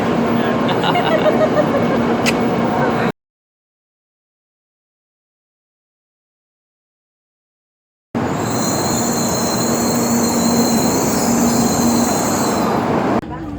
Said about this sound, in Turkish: Tokyo'dan Osaka'ya Shinkansen'le gidiyoruz. Hızlı trenle.